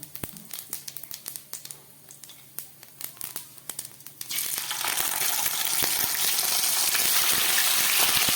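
Salted fish and pieces of brinjal go into a hot kadai: scattered crackles and taps at first, then a loud, dense, continuous frying sizzle that builds suddenly and holds steady close by.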